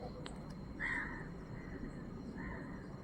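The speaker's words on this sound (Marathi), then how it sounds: "काय कावळा कसा ओरडायला लागला रात्रीचे." A crow caws at night in a quiet outdoor setting, a short harsh call followed by a second fainter one, heard at moderate distance over low background hiss.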